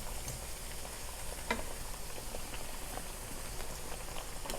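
Plantain tostones frying in hot oil give a steady, even crackle and bubbling hiss, close and moderately loud, with one brief louder pop partway through and no talking.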